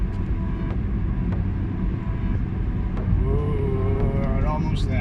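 A Honda Civic's engine drones loudly from inside the moving car, with a steady low rumble and a revving tone that climbs and wavers in the last couple of seconds.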